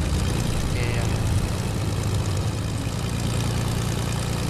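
Propeller plane engine in a video game drones steadily and close, a thick low rumble with a buzzing whir running unbroken throughout.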